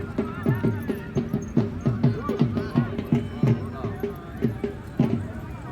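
Horses gather at a village tent pegging race in Pakistan, their hooves clip-clopping in a rough, uneven rhythm on the ground nearby while someone talks over the scene.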